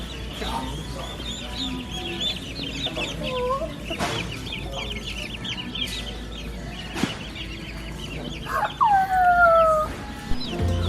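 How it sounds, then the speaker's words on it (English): Turkeys calling repeatedly outdoors, gobbling and clucking with a rising, warbling cry near the end, over steady background noise. "They're turkeys."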